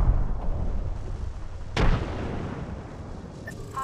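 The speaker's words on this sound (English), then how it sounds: "Chucking a frag grenade." A frag grenade bursts in the Apex Legends video game, one sharp boom standing out over a low rumbling game backdrop, then fading.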